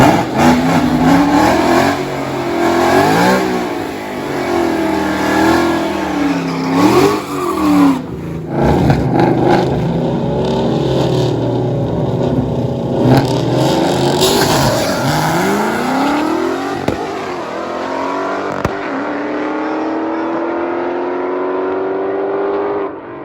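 Manual-transmission cars racing down a drag strip, a 1992 Pony and a Nickel White car, engines revving hard through gear changes with rising and falling pitch, loud and close, fading as they pull away at the end.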